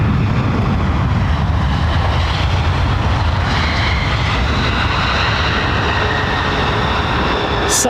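Boeing Dreamliner at London Heathrow Airport, a loud, continuous broadband jet roar with a faint rising whine, steady throughout with no voices.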